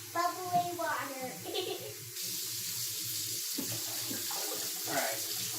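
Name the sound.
water pouring into a container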